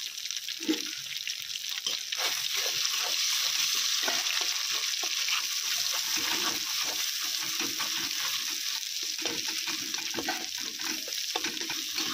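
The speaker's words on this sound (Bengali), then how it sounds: "লবণ দিয়ে দেবো স্বাদ মতো, অল্প পরিমাণে হলুদ গুঁড়ো দিয়ে ভাজবো।" Food frying in a pan with salt and turmeric powder: a continuous bright sizzle with scraping stirs and occasional clatter, close and steady throughout, no talk.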